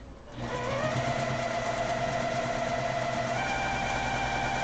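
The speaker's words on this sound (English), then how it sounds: "I'm just going to restitch over my line, my stitching" A sewing machine runs steadily as it restitches a seam along a pillow, its motor humming close and loud without pause, with a slight shift in pitch near the end.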